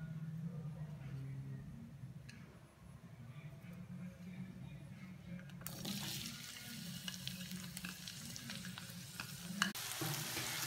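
Onions fry in about two teaspoons of hot oil in a pan, a soft sizzle that swells halfway through into a loud, continuous hiss.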